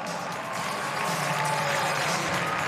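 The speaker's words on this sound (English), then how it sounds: "let's give all these gymnasts a huge round of applause" A crowd at a 2024 NCAA gymnastics quad meet in Minnesota applauds the gymnasts, giving a dense, steady wash of clapping that fills the arena without a break.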